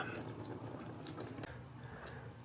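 Coolant drains from the radiator of a Jaguar S-Type R as a steady, quiet trickle and splash of liquid, with a faint shift in the flow about halfway through, heard alone without speech.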